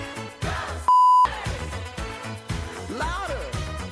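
A single steady censorship beep, about a third of a second long, cuts sharply across a song, which keeps playing loudly on both sides of it.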